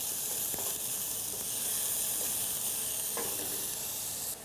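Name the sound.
onion sautéing in oil for Czech mushroom soup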